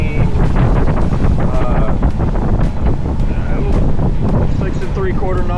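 Strong wind buffets the microphone aboard a sailboat motor sailing solo off Catalina in 14 knots of breeze and 4 to 6 foot seas, a loud steady rush with sloshing water beneath and someone talking throughout.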